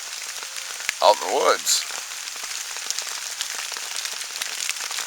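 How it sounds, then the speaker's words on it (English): Steady rain falls in the woods at a hammock campsite, a soft continuous patter with someone speaking briefly over it. "I'm hoping it stops raining long enough for me to set up my tarp"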